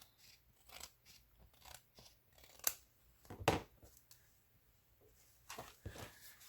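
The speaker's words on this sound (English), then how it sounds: "I'm just going to go along here and trim it by hand" Hand scissors snipping along the edge of a paper page in a concertina journal, a series of crisp irregular cuts and slicing rasps, close and quiet with light paper rustle between strokes.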